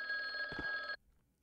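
A telephone rings inside a house in the horror video game The Guest, one clear bell burst close and fairly loud before cutting off into near silence.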